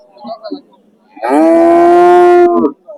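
A single loud, drawn-out moo from a small Holstein Friesian bull rings out close by at a cattle market, after a moment of faint background noise.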